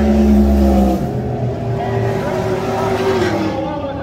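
Race cars at a quarter-mile drag strip during a midnight event, with a loud engine drone cutting off and then more distant revving and passing engines in the background.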